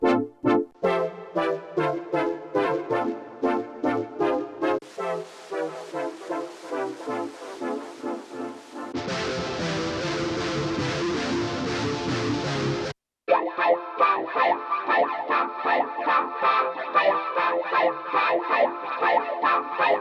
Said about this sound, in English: Here's a listen to some of my favorite distortion presets in Guitar Rig 6 Pro.